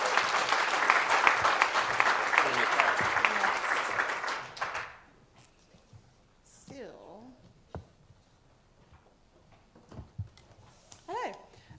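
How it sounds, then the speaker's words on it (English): An audience at a podcast summit claps for the next speaker: a burst of dense applause for about five seconds that stops abruptly, followed by quiet room noise with a few brief voices. "Round of applause, please, for Leanne."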